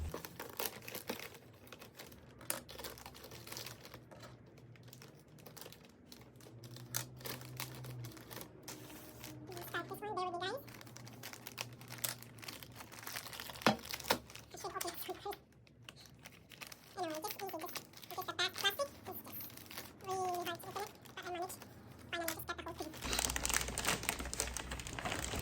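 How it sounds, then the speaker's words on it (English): Plastic wrap on a box is cut and peeled away, giving close crinkling, rustling and tearing sounds in scattered bursts, with a person talking at times. "let's cut this plastic."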